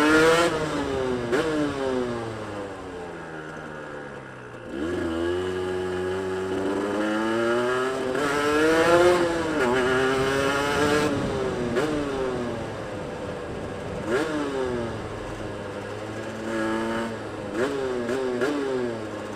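A hire motorcycle fitted with a 34mm race carburetor revs up and down repeatedly, its engine note rising and falling with a rough, uneven spluttering through the mid-range, close and continuous throughout.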